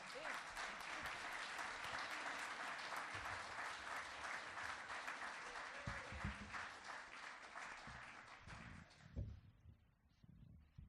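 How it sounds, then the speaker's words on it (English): Audience applause at a live stage event, dense sustained clapping that runs several seconds before thinning out into scattered claps at the end. "Give them a big round of applause."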